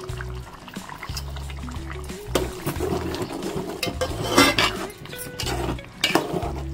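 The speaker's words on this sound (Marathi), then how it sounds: "थोडंसं कांदा खोबऱ्याचं वाटण टाकते थोडंसं मी त्याच्यात." Onion-coconut paste being added to squid cooking in a pan and stirred, with soft wet splats, scraping of a utensil against the pan and clinks of metal, close and continuous.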